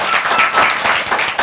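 An audience at a talk-show taping bursts into applause, a dense close burst of clapping that continues without pause for the whole short moment.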